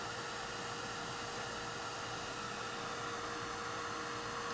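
Embossing heat tool blowing steadily onto paper to melt embossing powder, a constant close-up fan hiss and hum that holds at an even level throughout with no talk.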